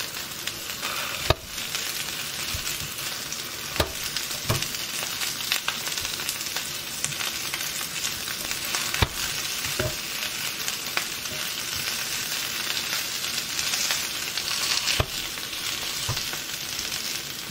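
Smashed boiled potatoes fry in a hot pan with a steady crackling sizzle, punctuated by occasional sharp pops and scrapes of stirring, close and continuous with no talk.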